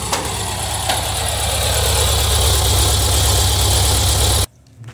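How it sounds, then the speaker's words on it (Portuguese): A Volkswagen Kombi engine idles steadily and loudly up close, with a constant low throbbing rumble and vibration, then cuts off abruptly near the end, leaving near silence. "Diz que o motor tá cantando."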